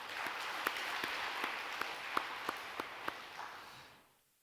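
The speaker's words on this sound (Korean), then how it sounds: "우리 호산나 찬양대원들에게 감사의 박수 하겠습니다." A church congregation applauds the choir after a Sunday service, steady clapping from many hands filling the room for about four seconds before fading out to quiet.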